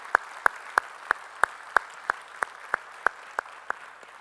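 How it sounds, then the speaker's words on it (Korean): A church congregation claps in unison during a Sunday worship service, about a dozen sharp, evenly spaced claps in a steady beat, close and clear with no talking over them. "우리 찬양 받으실 주님께 영광의 박수 올리겠습니다."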